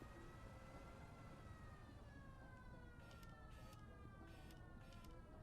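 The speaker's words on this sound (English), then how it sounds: "Distant sirens." Faint distant sirens wail in the background of the video game Conway: Disappearance at Dahlia View, long rising and falling tones drifting under a low ambient hum, with no talk over them.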